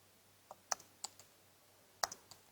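Keystrokes on a computer keyboard during a programming tutorial, a handful of sharp separate clicks spread unevenly over a quiet background, with no talking.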